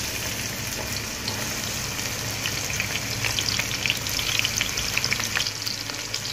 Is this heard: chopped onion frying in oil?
yes